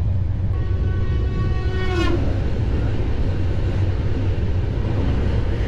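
A train rolling at 130 km/h fills the scene with a loud, continuous rumble and rattle, while another train at similar speed sweeps past in a brief rising-then-falling whoosh near the middle.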